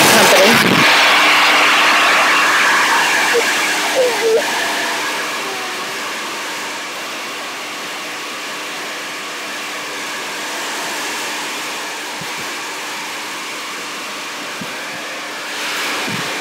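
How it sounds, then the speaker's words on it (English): A Sedu hair dryer on its highest heat setting blows a loud, continuous roar with a steady motor hum, easing slightly after the first few seconds and holding constant to the end. "let's see how long it takes me to blow dry my hair. I'm going to use the highest heat setting"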